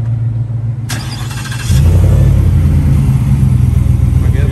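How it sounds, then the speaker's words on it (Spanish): A 2021 Ford F-150 regular cab pickup with a 5.0 V8 rumbles through its muffler exhaust, then swells into a deeper, louder rev at close range that holds steady to the end, with no talk. "se escucha bonito el mofle"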